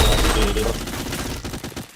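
Dense bursts of video game gunfire from a shooter match, a loud rapid fusillade of overlapping shots with a deep rumble, dense at first and thinning into scattered cracks near the end.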